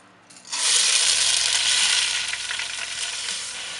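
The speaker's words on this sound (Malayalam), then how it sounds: "ഇനി റൈസ് ഒന്ന് വറുത്തെടുക്കണം." Jeera rice hits hot ghee and oil in a pan and bursts into a loud, steady sizzle that eases off slightly as it keeps frying.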